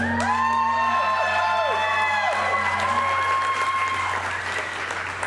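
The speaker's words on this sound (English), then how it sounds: "a round of applause." Wedding guests applaud and cheer at a barn wedding reception on a Pittsburgh-area farm, a dense, steady wash of clapping with whoops and voices rising over it, fairly loud, fading slightly toward the end amid a low hum.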